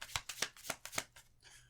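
Tarot cards being shuffled during a card reading, a quick run of about eight crisp riffling snaps in steady rhythm, close and clear, trailing into a softer flutter at the end.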